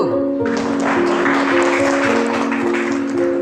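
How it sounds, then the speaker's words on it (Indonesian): A class applauding a student group after their presentation, a brief burst of dense clapping over a steady background tone. "tepuk tangan buat kelompok"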